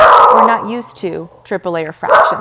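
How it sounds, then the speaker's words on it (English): A pet dog barks and yips a few times indoors during a math lesson on derivatives, the short barks mixed in with a man's ongoing speech. "Sorry, that's my dog."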